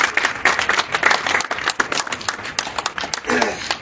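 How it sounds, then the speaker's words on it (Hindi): A village crowd claps during a turban-honouring ceremony at a political support gathering, bursts of clapping rising and falling unevenly, close and fairly loud, with voices and shouting mixed in. "आप पगड़ी पहनाओ, जोरदार तालियां।"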